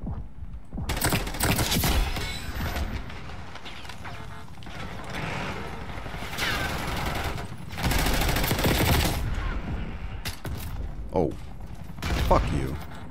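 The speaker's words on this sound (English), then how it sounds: "Who's shooting me?" Gunfire in Call of Duty: Black Ops 6 rattles in repeated automatic bursts and scattered shots across the whole stretch, mixed with thumps and mechanical game effects at a steady, fairly loud level.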